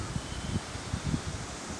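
Wind moves through a forest near Murmansk on a sunny July day, giving a soft, steady rustle of leaves with gentle gusts. It is faint and close to the ground, with no voices.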